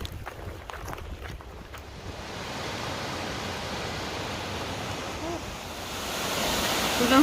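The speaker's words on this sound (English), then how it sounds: "We've been following this waterfall all the way down." A waterfall near St. Mary Lake in Glacier country makes a steady, broad rush of falling water that grows louder toward the end, with a few faint knocks early on.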